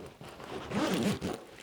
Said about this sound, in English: absolutely no trouble closing this bag up by the zippers